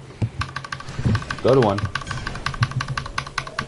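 Quick, steady clatter of computer keyboard typing runs throughout, close and fairly loud, with one voice briefly talking over the keys in a gaming setting.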